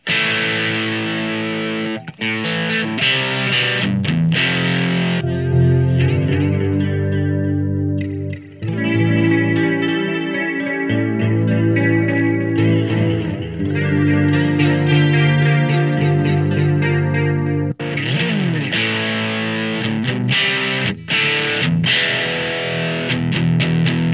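Electric guitar played through a HeadRush Gigboard into an external amp, alternating between chorused clean passages and heavily distorted chords, loud and continuous with brief pauses between sections.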